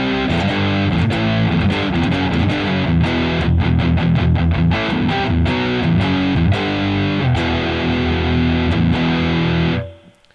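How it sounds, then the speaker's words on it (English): An electric guitar played through a Musiclily ODDT-01 distortion pedal with the gain turned up, producing loud, thick, fuzzy chords and riffs for about ten seconds before stopping abruptly and ringing out. "It's like a classic distortion. But I just feel like the more you turn up that gain, the fuzzier it gets, a little bit muddier."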